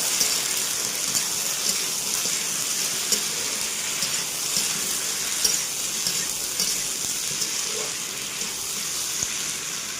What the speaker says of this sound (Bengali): আদা রসুন পেস্ট করা আর কাঁচা লঙ্কা পেস্ট করা দিয়ে দিলাম। ভালো করে একটু নাড়িয়ে নিচ্ছি।